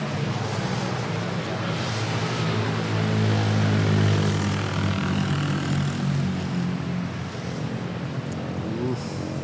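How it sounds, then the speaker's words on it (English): A Philippine Airlines Boeing 777 Heavy takes off from Manila Airport, its loud, steady jet engine roar filling the whole stretch with a broad rumble and hiss, close by and without any talking. "Philippine Airlines 777 Heavy off to Shanghai."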